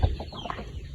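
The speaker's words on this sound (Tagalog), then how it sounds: "Daming manok." Chickens cluck briefly in the foreground, a quick soft burst of fowl sounds over a low background hum.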